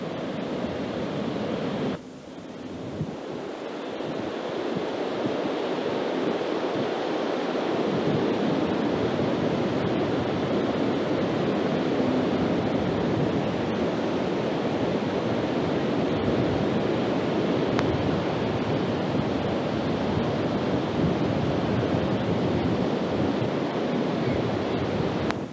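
Surf breaks continuously on a rocky beach at Capistrano, a loud, dense wash of crashing waves and rushing water lasting throughout, with wind buffeting the microphone and no talking.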